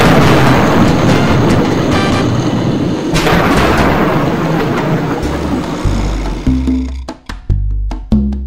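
Thunderstorm in a film trailer, a loud, continuous rolling rumble that breaks into sharp cracks and booms toward the end.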